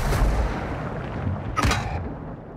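M4 rifle gunfire in a tactical shooter game with an attack round underway: dense, continuous rumbling shots with a sharp, loud crack near the middle, all close and without talk.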